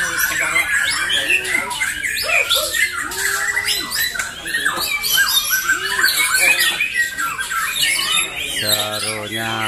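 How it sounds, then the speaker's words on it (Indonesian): Dense, loud chatter of white-rumped shamas at a songbird competition, with sharp squawks, whistled calls and rapid trills overlapping continuously, as if several birds are calling against each other. "pertarungan burung murai batu"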